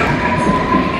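A London train pulls away from a station platform with a steady, loud rumbling roar and a faint whine, heard alone over one second.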